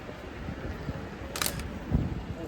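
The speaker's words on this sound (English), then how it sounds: "I've added the shutter sound just so that you can have a rough idea of when I actually click the shutter" Single camera shutter click added as an effect over faint outdoor street ambience, one short crisp snap near the middle.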